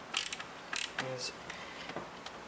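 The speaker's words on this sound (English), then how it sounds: "the ratcheting function of the screwdriver has become more of a hindrance than a help." A ratcheting screwdriver turned in short strokes while opening a cassette, giving quick clustered mechanical clicks and ticks up close, followed by a few softer scattered clicks.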